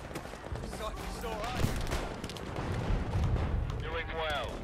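Battlefield V gunfire rattles through a dense, noisy online match, bursts and shots crowding the mix alongside explosions, while a player talks over the action.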